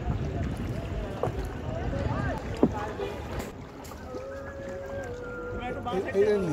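Boats moving on water during a zoology department college excursion in Meghalaya, a low rumbling wash with wind noise, heard under people talking and shouting nearby.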